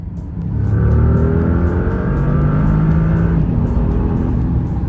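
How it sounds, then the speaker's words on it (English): A 2025 Bentley GT accelerates hard, its engine a loud, close, sustained roar that climbs steadily in pitch for several seconds with no talking over it. "We're about to take off in the Bentley, so we feel this power."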